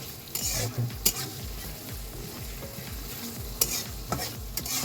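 Noodles with vegetables frying in a pan are stirred steadily, a continuous sizzle under rhythmic scraping strokes and occasional sharp clinks of utensil against the pan.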